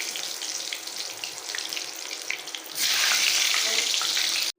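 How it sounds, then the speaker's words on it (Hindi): Salted eggplants frying in oil, a loud close hiss that swells abruptly into a stronger, dense sizzle partway through. "अब इनको हमने तलना है बैंगनों को।"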